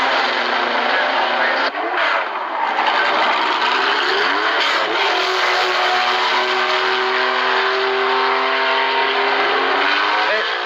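A race car pulls away at the 1975 24 Hours of Le Mans, its engine a loud sustained roar climbing through the gears, with a commentator talking over it.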